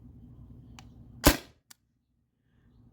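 Single sharp shot from a T4E TR68 airgun modified with a drilled restrictor and running on CO2, a loud close pop with a brief hiss, followed by a faint click and near silence.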